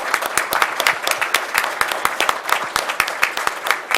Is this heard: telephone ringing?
no